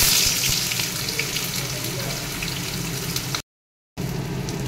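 Onion frying in a hot iron wok, a steady loud sizzle with a continuous hiss and crackle that runs unbroken for several seconds, then cuts out abruptly for half a second before resuming.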